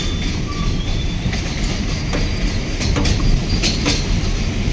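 A Vande Bharat Express train runs over the Farakka bridge on the Ganges, heard as a continuous close rumble with rattling clatter and a few sharp metallic clicks and squeals throughout.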